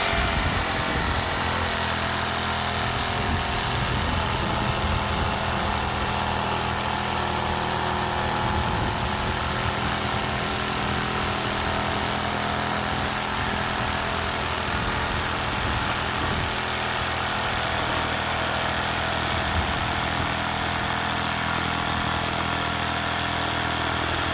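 A RIDGID 18V OCTANE brushless cordless jigsaw (R8832B), set to speed 5, cuts along a marked line with a loud, steady motor drone and blade buzz that runs unbroken for the whole stretch, with no voices.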